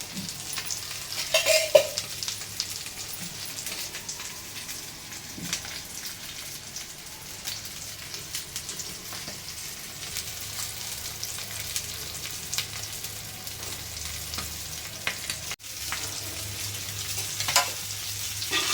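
Rava-coated bangda mackerel shallow-fries in oil over medium heat with a constant soft sizzle and crackle, like light rain. A few faint clinks and scrapes sound near the pan, and there is no talking.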